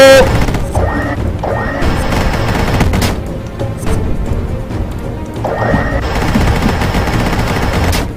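A battling gun fires in the action game Dungreed: loud, rapid bursts of shots sit among bright, shifting game effects that fill the whole stretch.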